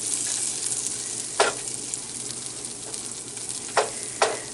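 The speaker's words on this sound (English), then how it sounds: "So we're just letting that butter melt" Butter melts and sizzles steadily in a pan for a pork stir fry, a close, even frying hiss with a few sharp utensil scrapes or clicks breaking through.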